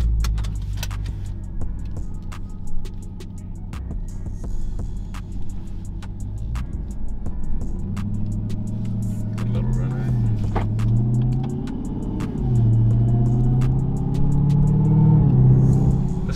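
A car, either a Lamborghini on 32-inch wheels or a Hellcat Redeye Charger, is heard from inside as its engine drones and revs with rising pitch while driving. Voices talk over the engine.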